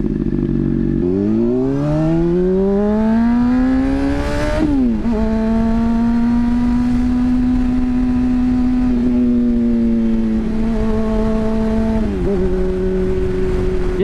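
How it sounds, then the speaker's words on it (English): Loud, close sportbike engine revving up through the gears on a night ride, pitch climbing then dropping at each shift before settling into a steady drone. "when I ride at night, it makes me realize how loud my bike actually is"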